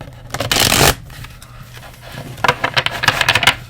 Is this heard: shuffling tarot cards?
yes